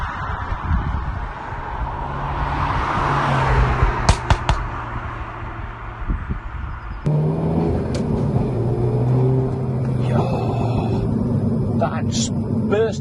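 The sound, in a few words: Renault Megane RS Trophy-R accelerating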